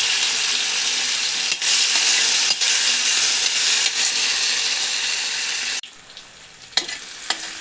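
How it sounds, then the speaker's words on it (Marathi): Onion and tomato sauté in hot oil in a wok, a loud, steady sizzle that runs dense and unbroken before dropping abruptly to a quieter hiss with a few stirring clicks near the end. "इथे कांदा आणि टोमॅटो परतून घेणार आहोत"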